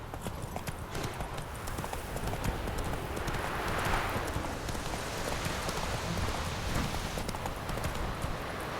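Horse hooves clip-clop steadily while a rider travels in The Witcher 3 game, a continuous rhythmic trot over a dense, even background with faint rain-like texture, no talk.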